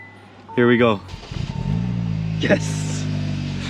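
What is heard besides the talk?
car engine started after jump start, running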